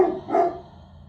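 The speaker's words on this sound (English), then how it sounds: "excuse my dog" A dog gives a single short bark close by, indoors during a gentle yoga class.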